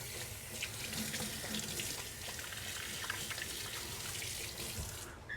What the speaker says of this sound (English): So you rinse off the meat, and then you dry it off as best you can